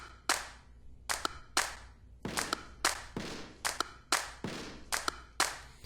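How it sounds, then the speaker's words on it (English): Sharp hand claps layered into an acoustic pop cover track, about a dozen crisp hits in a steady rhythmic pattern, each with a short decaying tail, close and dry. "Threw in some claps."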